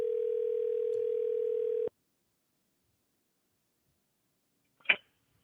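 One ringback tone lasting about two seconds cuts off abruptly, then silence and a short click as the call connects.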